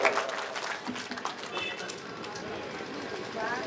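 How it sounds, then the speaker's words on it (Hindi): Audience applause at an Urdu mushaira poetry gathering in Cuttack, a dense, steady patter of clapping from a crowd that runs throughout, with a voice speaking over it. "एक जोरदार तालियों की गड़गड़ाहट से सलाउद्दीन तस्कीन साहब का इस्तेमाल कर।"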